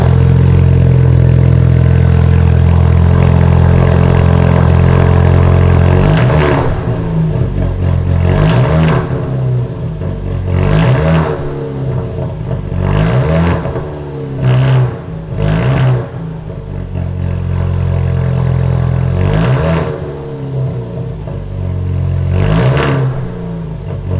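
An Alfa Romeo Giulia fitted with a 2.75-inch Remus catback exhaust with quad tips, on a cold start: a loud steady idle drone broken by a series of sharp throttle blips and revs.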